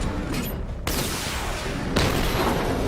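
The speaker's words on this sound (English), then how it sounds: "Destroy targets to charge up weapon energy and activate missile barrage." Missile barrage fire in a video game, dense overlapping launches and blasts pounding loudly and continuously, with sharp new volleys kicking in partway through.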